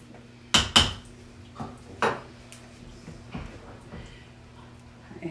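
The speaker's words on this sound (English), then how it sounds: "I'm going to stir all this together." A spoon stirs chicken stew in an Instant Pot, striking the metal inner pot in a few sharp clinks and scrapes that are loudest near the start and then lighter and sparser, with no speech.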